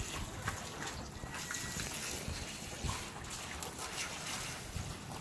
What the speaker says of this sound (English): And you can see this laminar flow.